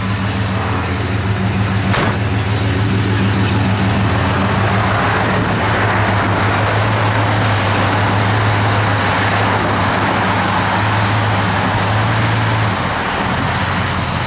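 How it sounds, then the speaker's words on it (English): A 1964 Chevrolet Malibu's heater blower motor runs with a continuous low hum and steady airy rush, constant and fairly loud throughout, with a faint click near the start. "Blower motor works."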